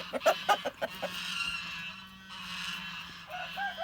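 A Livenska chintz chicken clucks in a quick series of sharp calls, then softer fowl sounds follow, close by with a low hum underneath.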